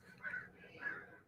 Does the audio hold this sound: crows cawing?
yes